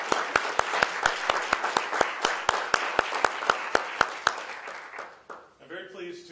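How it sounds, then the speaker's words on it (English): A lecture audience gives a round of applause for a donor family, heard as a single person's slow, loud, evenly spaced hand claps that stop before a voice begins speaking. "let's give them a round of applause"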